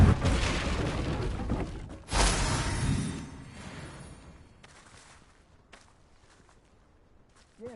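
A Confringo blast spell fired in Hogwarts Legacy, a loud booming burst with a whooshing tail that fades into rumbling game ambience, alongside a short later impact.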